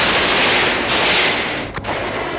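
Rapid automatic gunfire from a machine gun rings out as a dense, continuous burst that runs loud and unbroken for about a second and a half, then abruptly cuts to quieter noise.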